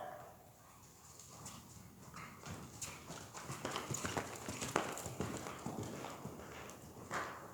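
Horse hooves cantering around a cone, heard as steady rhythmic clip-clop footfalls on soft ground, moderately close, with faint background noise and occasional voices.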